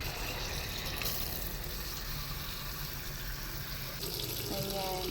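Sprouting mung beans get rinsed under running tap water at home, with a steady splashing stream throughout and a brief clink near the end.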